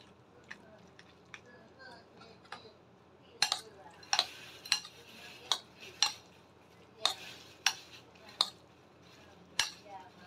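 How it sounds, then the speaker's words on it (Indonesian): A spoon stirs a steamed chicken and mushroom mixture with sesame oil in a bowl, giving a steady series of close, sharp clinks and scrapes against the dish, roughly one or two per second. "Lalu kita aduk kembali hingga benar-benar tercampur rata."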